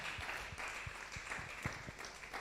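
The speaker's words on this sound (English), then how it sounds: "So please, let's clap for ourselves." Seminar audience at a youth business event clapping for themselves, a scattered, fairly quiet round of claps with a few distinct hand strikes standing out over a steady crowd wash.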